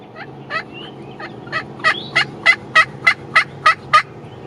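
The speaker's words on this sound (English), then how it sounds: "just had a tom gobble right behind us here, about 100 yards or so" A wild turkey tom gobbles roughly 100 yards away outdoors, a rapid series of about a dozen rattling pulses that swell louder toward the end, heard alone over faint background ambience.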